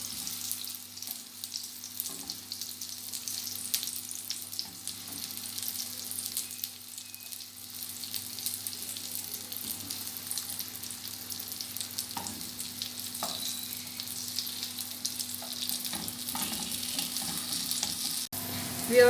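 Potato cutlets (aloo shami) fry in a pan after being flipped, producing an even, continuous hiss of sizzling oil at a moderate, close level with no talking.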